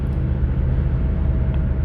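A 2007 Jeep SRT8 fitted with a Mopar cold air intake gives a steady, deep exhaust rumble, loud and close, holding an even drone throughout with no talking over it.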